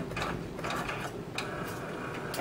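A claw machine's mechanism whirs and clicks as the claw rakes prizes, a steady mechanical rattle of gears and ratchet close by with brief surges, no talk.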